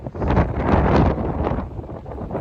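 Strong, gusty wind from Storm Darragh buffets the microphone near the water in Cornwall, a loud, continuous roar with surging rises and dips.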